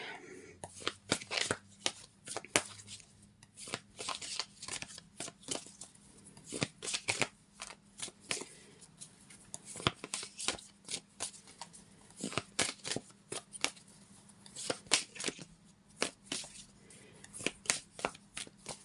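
Tarot cards being shuffled in rapid, crisp riffling bursts, repeated in a steady rhythm throughout, close and clear with no talking.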